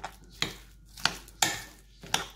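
Grated potato galette batter with a whole egg is mixed in a bowl, making five rhythmic scraping clacks of utensil against dish, close and crisp with short pauses between strokes and no speech.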